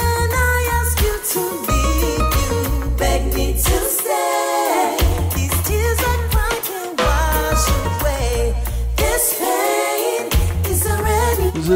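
The song plays loudly, a full mix with bass, harmonic instruments and a sung melodic line, with brief drops in the low end.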